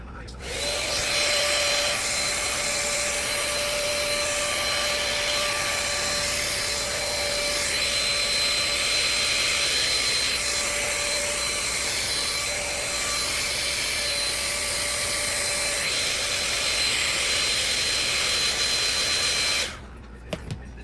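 A hair dryer runs continuously for about twenty seconds with a steady high whine and airy rush, close up, then switches off.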